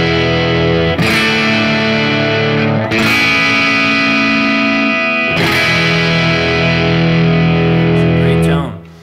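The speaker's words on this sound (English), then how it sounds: "And lastly, I've got a Les Paul going through a Marshall JTM" A Les Paul played through a cranked Marshall JTM 45 amp strikes a few big distorted chords, each left ringing with thick sustain before the next hit, loud and alone until a final cutoff.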